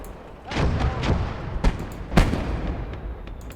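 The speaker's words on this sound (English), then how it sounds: "Gun is firing." Gunfire and booming blasts in a Motherland battle video game, several sharp reports at irregular intervals over a rumbling background.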